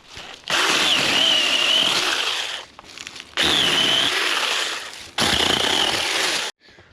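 A small electric chainsaw whines loudly in three long cutting bursts on a farm, close by, with short quiet gaps between them.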